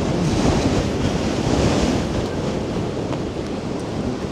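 Strong wind buffeting the microphone in a heavy, continuous roar on the seashore of Norderney island, Germany, mixed with the wash of nearby surf, no voices.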